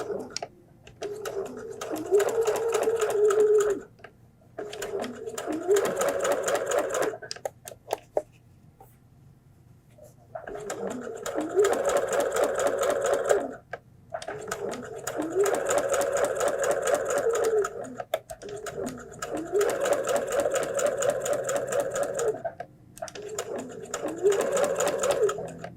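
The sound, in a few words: sewing machine stitching a fabric flu mask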